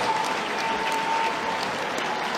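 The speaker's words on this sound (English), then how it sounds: "Ladies and gentlemen, can we please have a big round of applause for both of our" Steady, dense applause from the crowd at a live boxing event at Skate Central in Sheffield, honouring both boxers after four rounds; loud and continuous throughout without a break.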